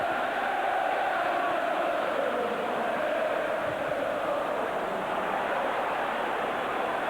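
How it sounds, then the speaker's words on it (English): Steady crowd roar fills White Hart Lane during a Tottenham versus Arsenal North London derby in December 2000, a dense, continuous wash of voices with no distinct chants or peaks. "the noise of the crowd now at White Hart Lane"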